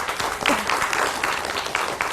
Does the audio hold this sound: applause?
yes